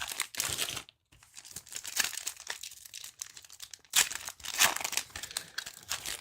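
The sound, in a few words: opening foil packs of football trading cards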